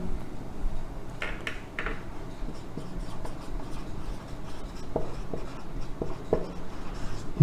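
Chalk or marker writing on a classroom board during a biology lesson, a steady run of scratchy strokes with short taps, moderately loud against faint room noise and no talk.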